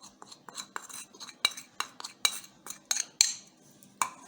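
A metal spoon repeatedly scrapes and taps against a cooking pot while chili powder is measured in for Delhi-style nalli nihari, giving a quick series of close, bright clinks and scrapes with no talking.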